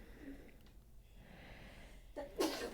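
A second sneeze from one person during a VR sculpting game session, a brief breathy build-up then a sharp burst near the end, faint over a low background hum.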